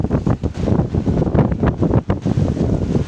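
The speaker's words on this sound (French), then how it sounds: "Là il y a du vent de ouf avec la pluie, je vous raconte pas." Strong gusting wind buffets the microphone outdoors in the rain during a fishing outing, a loud, constant low rumble with rising and falling surges throughout.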